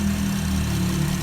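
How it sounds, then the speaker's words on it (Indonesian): A Porsche engine runs smoothly after a camshaft adjuster repair, a steady, even mid-low hum held at constant loudness with no talk over it. "kawan-kawan dapat melihat atau mendengarkan suara mesin perlahan mulai halus"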